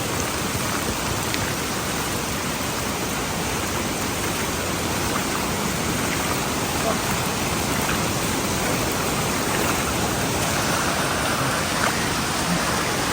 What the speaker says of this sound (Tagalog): Bumubuhos na po yung malakas na ulan dito sa bundok.